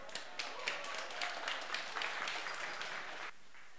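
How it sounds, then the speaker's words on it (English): Audience applause for a speaker at a corporate IT event, a steady wash of many hands clapping at moderate distance that cuts off abruptly near the end, leaving faint room tone. "Let's get a big round of applause, please, for Jonathan Sharratt."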